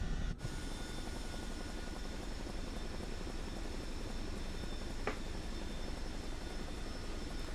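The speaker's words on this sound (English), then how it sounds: "we'll hold R1 and down on the D-pad to do a quick shutdown of the Chinook" A Chinook helicopter shuts down in Microsoft Flight Simulator 2024, its steady broadband rotor and turbine roar droning on evenly after a brief dip at the start, with no voices.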